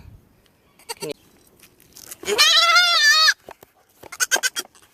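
A goat bleats once, loud and close, with a long wavering cry during ear tattooing, surrounded by scattered clicks and handling noises of the tattoo clamp.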